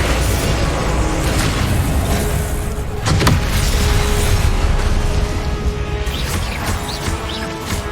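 A rapid barrage of spell blasts, Confringo, Stupefy and Expelliarmus, is cast in Hogwarts Legacy combat, with dense continuous booms and bursts and a sharp crack near the middle, loud and sustained throughout.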